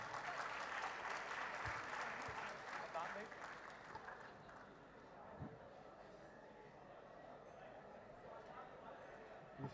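An audience at a poetry recital during the Faisalabad Literary Festival applauds, a strong round of clapping that gradually thins and fades, with voices audible beneath it toward the end.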